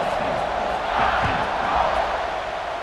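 A dense stadium crowd roars steadily in EA Sports College Football 26, a broad sustained wall of cheering that swells slightly midway, with muffled voices mixed in.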